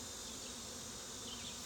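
Honey bees buzz steadily around mini mating nucs, a dense continuous hum close by that holds without a break and has no voices over it.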